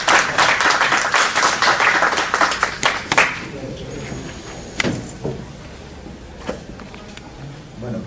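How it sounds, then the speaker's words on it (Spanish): A lecture-hall audience applauds to welcome a customs law speaker, dense clapping for about three seconds that breaks off abruptly, followed by quieter room noise with scattered knocks and thumps. "Recibamos un caluroso aplauso al doctor Guamán"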